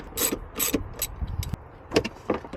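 Sharp metallic clicks and short ratcheting bursts as a 10 mm wrench loosens a 12-volt battery terminal on a Chevy Volt, close up, in several quick spurts with brief pauses.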